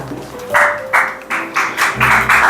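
Audience applause at a high school graduation ceremony, as diplomas are handed out one by one: a crowd claps in several short bursts, loud and fairly close, with brief lulls between them.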